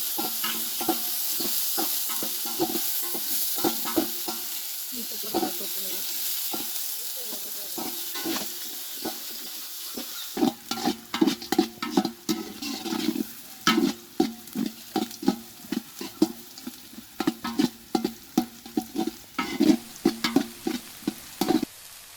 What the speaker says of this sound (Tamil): வெங்காயத்தை கொட்டி நல்லா ப்ரௌனா வதக்கிப்போம்.